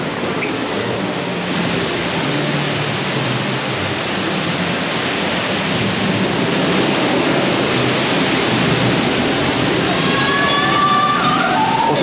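Waterfall at the Phantasialand amusement park, a loud, steady, broadband roar of crashing water that fills the whole stretch without pause, with no voices heard over it.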